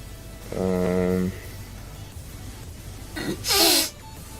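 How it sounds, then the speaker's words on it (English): A wet, nasal sniffle from a clogged nose comes in two bursts: a harmonic, voiced snort first, then a sharper, hissy inhale through the nose a moment later. "Actually, that's just me sniffling."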